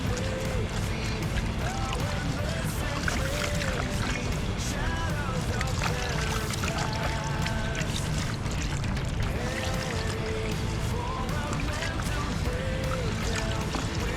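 A foam air filter from a Yamaha YFZ450R quad is worked and scrubbed by hand in cleaning liquid, giving continuous close sloshing and squelching with splashes.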